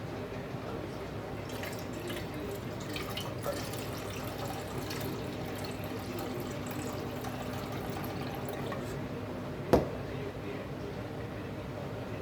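Rice grains are rinsed in a pot of water for egg pulao, a soft continuous swishing and trickling close by at low level, with one brief sharper clack near the end.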